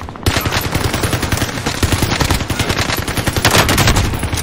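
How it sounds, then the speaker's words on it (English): Sentry turret in an online shooter game firing sustained rapid automatic bursts, loud and dense, with a steady staccato rhythm running throughout. "My sentry turret's doing some fucking damage"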